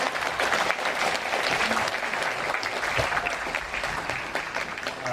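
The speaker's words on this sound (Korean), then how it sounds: "여러분, 태원준 작가님을 뜨거운 박수로 맞이해 주시기 바랍니다." A lecture audience at a travel writer's open talk claps warmly to welcome the speaker, a broad, even wash of many hands at moderate volume that continues for several seconds.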